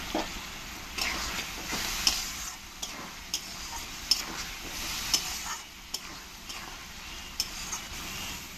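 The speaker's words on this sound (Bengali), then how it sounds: "আর এখানে যে আলুগুলো আমি ভেজে রেখেছি এই মশলার সঙ্গে আমি কষিয়ে নেব।" Fried potatoes being stirred with spice masala in a pan for a rohu fish curry: a continuous close sizzle broken by sharp, evenly spaced clicks and scrapes of the spoon, with no talking.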